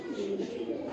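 Pigeons on a rooftop coo softly in a low, steady murmur nearby, under faint background noise.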